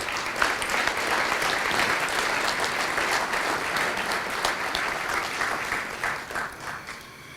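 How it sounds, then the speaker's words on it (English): Audience applause at a Kiwanis Club STAR Student banquet, a sustained, dense round of clapping from a seated crowd that holds steady and then tapers off near the end. "a big round of applause for"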